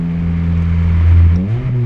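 A Honda K24 engine's exhaust drones loudly up close as the car accelerates, a deep tonal note swelling in pitch and volume before dipping and climbing again.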